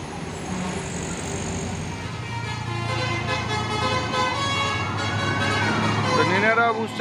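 A Chandra bus sounds its telolet horn, a melodic rising and falling multi-tone blast near the end, over steady roadside traffic rumble and engine noise.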